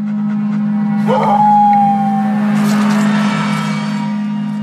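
A single long, mournful dog howl, likely a dingo in the Australian wild, holds a steady pitch for over a second, set against a constant low droning hum.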